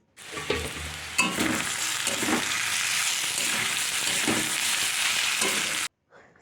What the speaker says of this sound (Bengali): চলুন আলুটা মোটামুটি ভাজা ভাজা হয়েই এসেছে দেখুন